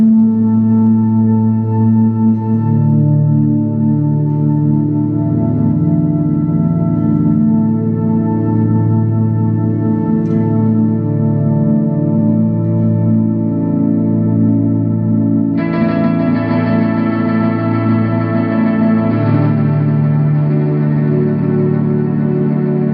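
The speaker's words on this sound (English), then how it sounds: "It actually should be a swell." Electro-Harmonix Synth 9 guitar pedal set to a swell effect, producing a sustained, dense synth-like guitar tone that holds steady and loud, then brightens noticeably partway through, with a reverberant, effected wash and no talking.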